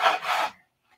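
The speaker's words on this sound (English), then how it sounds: "Gotta sand this off." Hand sanding a small balsa-style model airplane wing: two quick, close rasping strokes, then silence.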